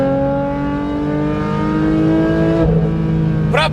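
A Porsche 911 GT3 engine revs with a high, rising harmonic whine that builds, then drops suddenly and flares again in a sharp blip near the end, loud and close.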